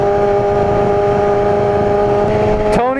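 Motorcycle engine running steadily at low revs in a low gear it cannot shift out of, loud and close with a constant harmonic drone, then a brief burst of revving near the end.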